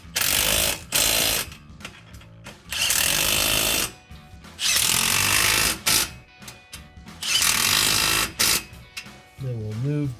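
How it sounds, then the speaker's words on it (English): A power tool tightens the clamps on a BBK 2-3/4-inch X-pipe exhaust fitted to a 2010-2015 Camaro SS, firing in loud, close bursts of about a second each, separated by short pauses and clanks. "So we're gonna tighten these up first."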